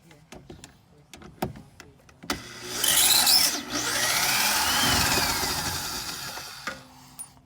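A power tool whirs loudly twice, driving out 7mm screws on the front end of a Jeep Wrangler JL, after several sharp clicks and knocks, with a winding motor tone rising and fading close by.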